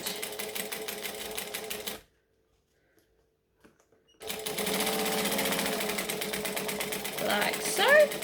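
A sewing machine stitches fabric with a fast rhythmic mechanical chatter, stopping for a couple of seconds of silence before resuming steadily, nearby and clear.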